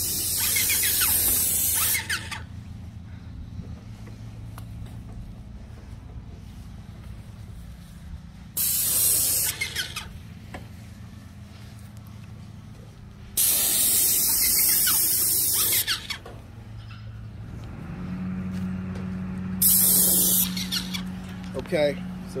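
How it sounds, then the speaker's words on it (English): A paint spray gun spraying shutters hisses in several long bursts separated by pauses, loud and close, with a low mechanical hum and some talking in between. "this is how you spray shutters"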